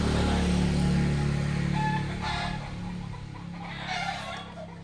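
Chickens cluck and call in a steady jumble over low background hum, with a couple of louder squawks toward the end.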